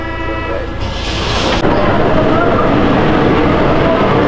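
A Paris metro train fills the space with a loud, steady rumble, and brief horn-like tones sound near the start.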